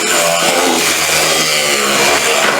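An ultrasonic wand scrubs salt crystals off a SmartMister DT-5300, making a steady, harsh buzzing drone, close and continuous, with a raspy, motor-like edge and no voices.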